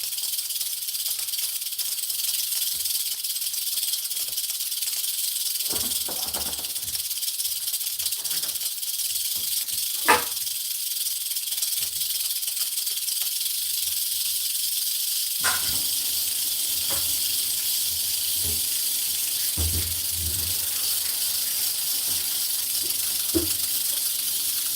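A snake rattles its tail in a sustained, bright hissing buzz that holds steady throughout, with a few scattered knocks and thumps underneath.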